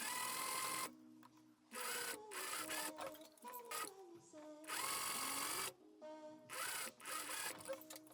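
A sewing machine stitches the shoulder seam of a backless gown's outer fabric, running in loud rapid bursts separated by short pauses, stopping and restarting several times up close.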